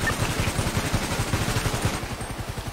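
Automatic gunfire in GTA roleplay during an oil rig heist rattles off as a rapid, even burst of shots, fairly loud and continuous for a few seconds, with no talking over it.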